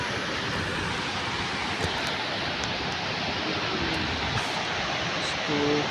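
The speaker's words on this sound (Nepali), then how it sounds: "यस्तो सफा नदी छ।" A clean mountain river flows steadily as a dense, even rush of water close by, unbroken for the whole stretch, with no one speaking.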